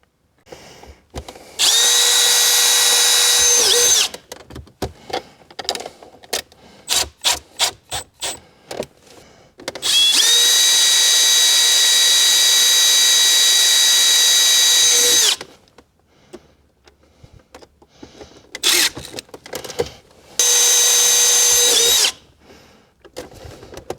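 A power drill drives screws to fasten heated seat parts in a 1996 Jeep Cherokee, with several long whirring runs and many short trigger bursts between them, loud and close, and no talking.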